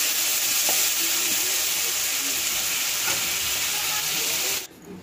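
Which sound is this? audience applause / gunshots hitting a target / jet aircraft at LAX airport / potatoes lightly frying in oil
potatoes lightly frying in oil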